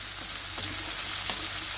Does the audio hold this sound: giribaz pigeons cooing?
no